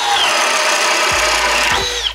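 A Milwaukee M12 Gen 3 Fuel hammer drill runs in drill mode at speed 2, giving a loud, steady, close whine with a few bumps under load before it spins down at the end.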